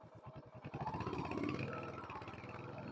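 A Royal Enfield Hunter 350, a 350cc two-valve air-cooled single, cranks with a quick stuttering rhythm and then catches into a steady low idle, recorded close and fairly quiet.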